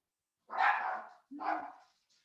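Dogs at home give two loud, close barks a moment apart as the mailman arrives, with no one talking over them.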